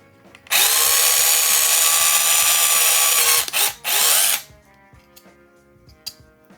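A power drill with a 3/16 bit bores through a Ghostbusters HasLab Proton Pack booster frame, a loud close whine lasting about four seconds, briefly dropping and restarting before spinning down to quiet.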